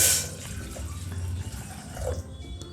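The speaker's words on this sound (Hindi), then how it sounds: "इसमें हम डालेंगे 2 कप पानी" Two cups of water are poured into a metal pot on a gas stove for cooking dal, making a short, soft splash and trickle heard close up.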